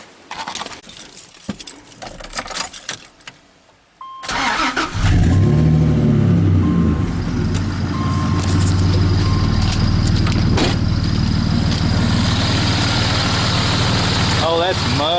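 A 1999 Dodge Dakota 3.9L V6 Magnum cranks and catches after some quiet handling noises, then settles into a loud, steady idle that runs on continuously, with a fresh idler pulley and belt fitted.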